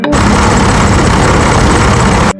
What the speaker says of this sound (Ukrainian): Щось трактор трохи глюче.